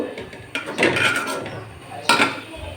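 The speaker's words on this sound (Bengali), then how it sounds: "পোলাওটা একটু নেড়ে চেড়ে দিচ্ছি।" Pilau rice stirred in a metal pot, two distinct bursts of spoon scraping and clattering against the pot, close and fairly loud, with quiet gaps between.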